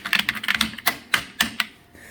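Keys on an original Apple Power Mac G4 keyboard are pressed in a quick burst of clacks, then a few slower, separate presses, crisp and close with no talking.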